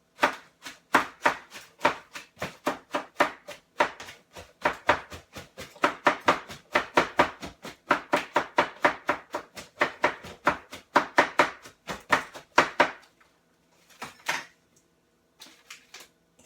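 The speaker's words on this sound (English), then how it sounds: "I start cutting it down with my ulu. This is my Alaskan ulu knife." An Alaskan ulu knife chops spinach right inside its box, producing a rapid, steady series of crisp thuds close by, pausing briefly and then finishing with a few scattered cuts.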